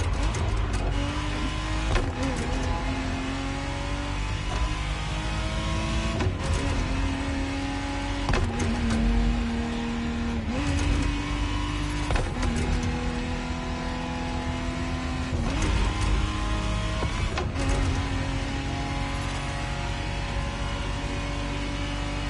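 A 1991 Ferrari Testarossa 512 TR flat-twelve in The Crew Motorfest is driven hard and loud, its engine pitch climbing through a gear and dropping at each shift in a steady cycle of about eight upshifts, with no talking.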